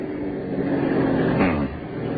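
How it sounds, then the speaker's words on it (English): A car rolls in as a radio drama sound effect, heard over old narrowband broadcast audio as a steady engine rumble that swells slightly midway and then settles, with no talk over it. "Here comes the car, Victor."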